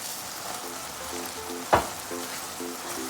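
Ground meat sizzles in a pan as ginger is stirred in for cassava tacos, a steady close frying hiss with one sharp scrape or knock midway and a faint repeating beep in the background.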